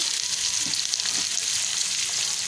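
Continuous close sizzling of minced chicken frying in hot oil, a dense crackling hiss with a couple of soft utensil knocks, no talking.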